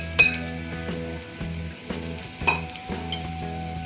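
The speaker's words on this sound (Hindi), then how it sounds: "अब मैंने मसाले को हल्का हल्का फ्राई कर दिया।" Spices frying with onions in a pan for a potato samosa filling, with a steady sizzle under rhythmic spatula scrapes and occasional metallic clinks against the pan, no voices.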